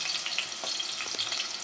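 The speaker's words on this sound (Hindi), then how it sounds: "इसमें डालते हैं प्याज, इसमें घी थोड़ा सा ज़्यादा डालेगा इस दाल में, तो प्याज हम ब्राउन करके बाहर निकाल लेंगे" Onions frying in hot ghee in a pan for dal, giving a steady, bright crackling sizzle with a few soft stirring scrapes, close and continuous with no talk.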